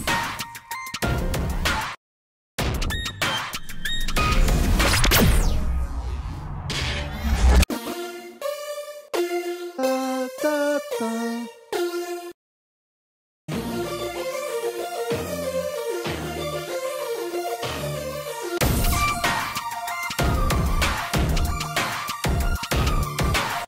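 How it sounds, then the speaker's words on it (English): Hyperpop track built from downloaded cinematic sound effects: dense, loud textured bursts give way after short silences to bright, rapid synth note patterns, then a busy layered section. The sound is close and produced, with no voices. "I downloaded a bunch of cinematic effects sounds."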